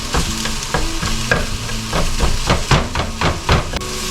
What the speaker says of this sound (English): It's going to also fry up a little faster, so we got to really watch it.